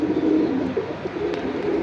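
Pigeons coo at a bustling Jinjira Bazar pigeon market, several soft throaty coos overlapping near the microphone amid faint background market murmur.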